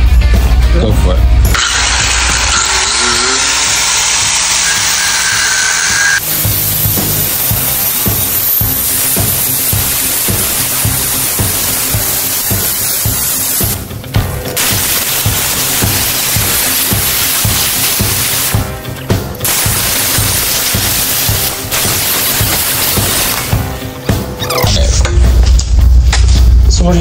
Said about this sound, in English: we're going to cut apart this 10K Carter axle just to compare